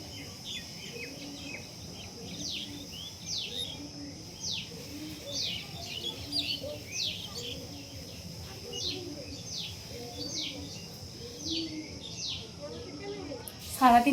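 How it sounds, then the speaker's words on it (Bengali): Pigeons coo in a village house, a soft repeating low burble pulsing at a steady rhythm, with faint bird chirps above it and a sharper sound at the very end. "তোমরা পায়রার বুকুম বুকুমটা ঠিক শুনতে পাবে"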